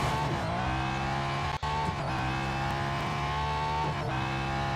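A race car in Real Racing 3 takes a corner, its engine droning steadily with tyre squeal layered over it, a continuous close game sound with no talk.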